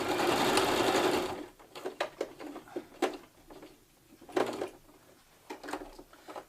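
A sewing machine stitches a fabric face mask, starting with a loud continuous run, then stopping and giving short spaced bursts of rapid needle clatter close by.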